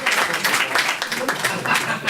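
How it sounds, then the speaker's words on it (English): A crowd claps in steady applause, the dense patter of many hands sustained throughout at moderate volume. "I just wanted to give a round of applause to our facilitators"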